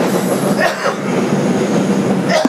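A 2001 Bombardier subway car on the 2 local along the IRT White Plains Road line rumbles loudly and steadily from inside, with wheel noise and faint squeals throughout and a brief clack near the end.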